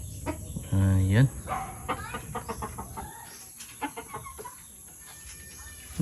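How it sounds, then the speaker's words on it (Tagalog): Several chickens clucking and squawking at a small farm house, one loud close burst of clucks followed by scattered softer calls, with people talking nearby. "Oh, maraming manok."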